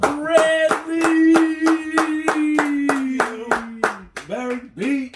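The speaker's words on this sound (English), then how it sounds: "please, everyone give a big round of applause for my boy" Steady rhythmic hand claps, about three per second, ring out close and loud for the guest on a talk show, under a sustained voice that fades near the end.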